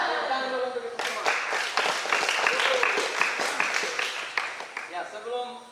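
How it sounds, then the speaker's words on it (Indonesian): Students at a physical education lesson clap hands together in a dense, sustained patter lasting several seconds, with voices mixed in. "Tepuk tangan dulu untuk itu semua."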